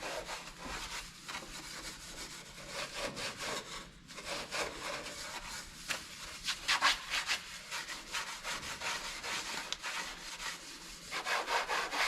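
A rag is rubbed briskly over a dually pickup truck's body panel in quick, repeated scrubbing strokes, up close and steady throughout with no talking.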